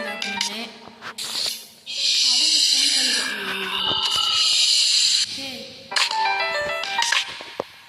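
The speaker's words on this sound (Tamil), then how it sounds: "இந்த ஃபோன் கால் வேறு சும்மா வந்துக்கிட்டே இருக்கு" An incoming phone call brings a ringtone of bright, warbling electronic tones in bursts, loud and close, with speech-like sounds and hissy noise around it.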